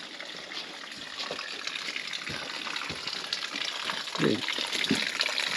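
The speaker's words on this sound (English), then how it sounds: "I've even got my own little water supply coming through the rock here." Water trickles through the rock inside a dry cave campsite, a faint steady hiss with a few soft splashes and drips, heard close and quiet, with one brief voice.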